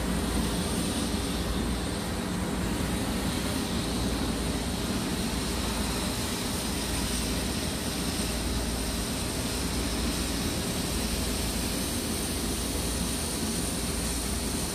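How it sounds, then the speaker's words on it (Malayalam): A Boeing 777-300ER jet engine heard from directly beneath the aircraft, a loud, steady, unbroken roar that fills the whole stretch with no voices. "അപ്പോൾ ഇതിൻ്റെ ഫ്ലൈറ്റിൻ്റെ സൗണ്ട് തന്നെ നല്ല ഭയങ്കര സൗണ്ടാണ്"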